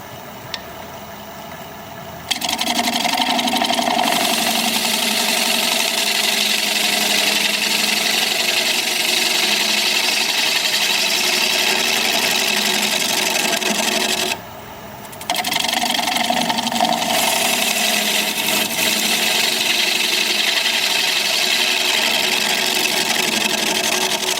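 A wood lathe turns a bug-holed piece of wood while a gouge makes light cleanup cuts, giving a steady, loud whirring drone with a bouncing, uneven cutting texture and brief pauses where the tool lifts away.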